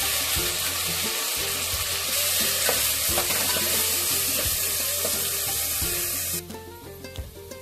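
Cumin and a ground wet paste added to a hot pan with curry leaves sputter in a loud, dense, continuous sizzle and crackle, close by, with stirring scrapes; the frying drops noticeably quieter near the end.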